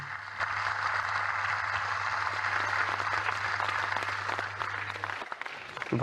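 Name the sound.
UFC fighters applauding at a table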